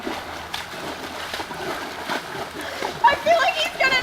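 A dog splashes in shallow creek water, with a few brief sloshing splashes near the end while people talk and react nearby.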